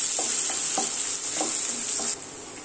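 Chopped onion and crushed garlic sauté in a pan with a steady, bright sizzle, broken by a few soft scrapes of stirring; close and continuous, no voices.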